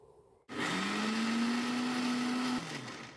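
A kitchen mixer grinder switches on and whirs loudly for about two seconds, pulsing soaked dal for vada batter, its motor pitch rising slightly before it cuts off and winds down.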